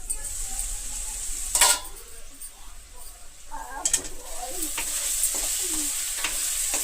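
Potato and carrot fry sizzling steadily in a pan, a continuous close hiss with occasional clinks and stirring scrapes.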